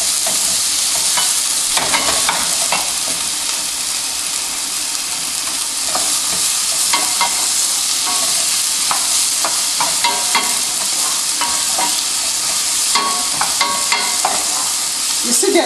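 Red onions frying in a pan on the stove, a loud, dense, continuous sizzle with frequent stirring and scraping clatters close by, with no talking.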